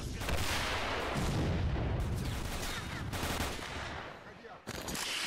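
Sustained gunfire in the video game S.T.A.L.K.E.R., aimed at an armored personnel carrier: a loud, dense, continuous barrage of shots running through the whole stretch, with brief drops in intensity.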